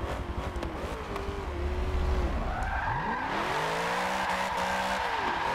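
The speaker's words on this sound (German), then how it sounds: "die Karre voll gegen die Wand baller" Virtual car in Forza Motorsport 7, a drift-setup E36, skidding with tire squeal and engine roar before slamming into a wall, the sliding whine rising and holding steady, loud and alone.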